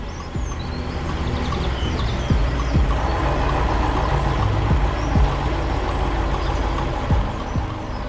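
A blue truck in an animated cartoon rumbles along with a steady engine drone, punctuated by several short hissing air-brake-like bursts and light chirps in the background, with no voices.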